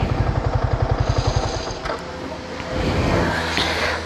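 A Yamaha R15 V3 2024 motorcycle idles with a steady close thumping beat before it cuts off, followed by a louder rumbling hiss and clatter without any talking.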